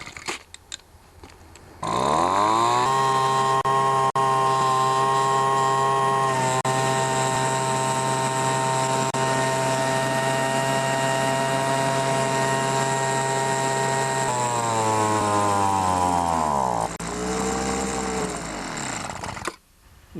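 A Poulan leaf blower's small two-stroke engine drones loud and steady close up, then its pitch sags and wavers as it starves on the last fuel in the carburetor, surging briefly before cutting out, with no voices.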